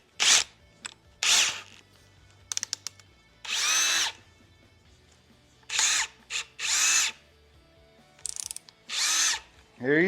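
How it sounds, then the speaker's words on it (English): An electric drill whirs in short bursts of about a second each, starting and stopping repeatedly with brief pauses and a few small clicks and rattles between runs, close and fairly clear. "I don't know if I want you drilling that."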